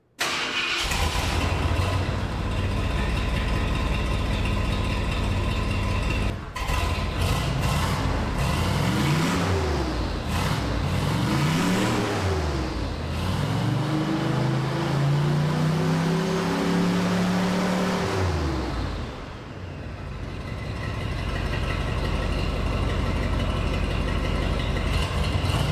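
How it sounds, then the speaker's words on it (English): A turbocharged farm truck with a Gibson exhaust idles with a low, steady rumble, then revs up several times in rising and falling bursts before settling back to idle; no talking. "After listening to all 3 exhaust clips on the camera microphone"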